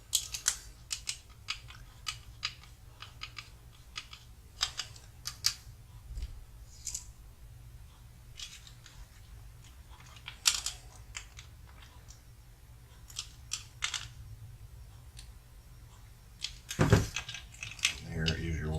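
Small screws are snugged down into an aluminum servo mount on a Tamiya MF-01X rear gearbox build, a series of close, sharp little clicks and scrapes of a tool, irregular and spread out, with one louder clunk near the end.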